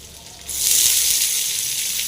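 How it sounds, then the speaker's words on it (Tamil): Onions frying in a pan for a leafy greens stir-fry, a sudden loud hiss of sizzling that rises after half a second and holds steady, close and continuous with no talk. "வெங்காயம் நல்லா ஃப்ரை ஆகட்டுங்க"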